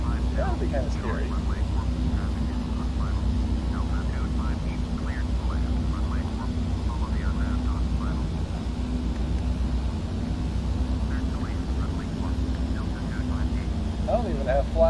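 A DHC-6 Twin Otter twin turboprop in the FSX flight simulator sits on a runway, its steady engine drone and low rumble running continuously under someone talking throughout.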